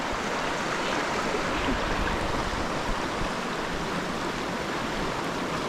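Steady rushing water fills the whole clip, a continuous broadband wash like a rain-swollen stream flowing nearby in the Konkan countryside, with no voices.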